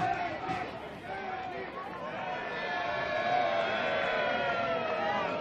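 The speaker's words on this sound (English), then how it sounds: "And the Magic chant is up." Broadmeadow Magic supporters chanting at a semi-final football match at Jack McLaughlin Oval, a sustained distant crowd chant swelling steadily with murmuring babble underneath.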